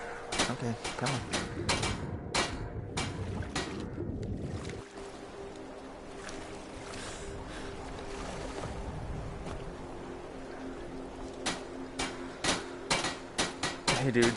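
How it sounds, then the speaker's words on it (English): Repeated hammer blows ring out in Skyrim VR as someone hammers on poles, sharp irregular knocks clustered at the start and end, mid-distance over water and ambient game sound. "You're just hammering on poles"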